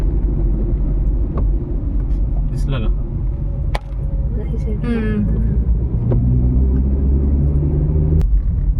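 A car drives along a road through greenery toward the Global Vipassana Pagoda in Mumbai, its steady low engine and road rumble continuous and close throughout while people talk over it.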